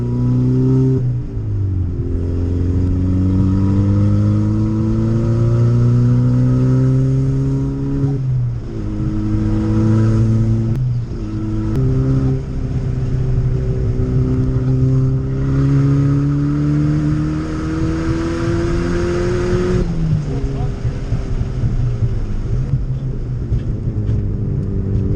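A Chevrolet Cobalt at speed on the Shannonville Motorsports Park track, heard from inside as a loud, steady engine drone that climbs through the gears, drops briefly on each shift and rises again, with no talking.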